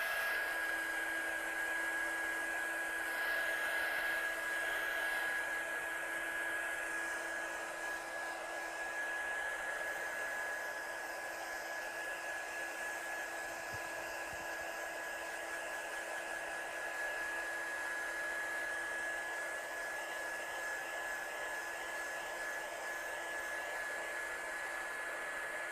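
A hair dryer drying watercolour-stamped paper runs as a steady, close, continuous whirring whine with a high tonal hum, unbroken for the whole stretch with no talk.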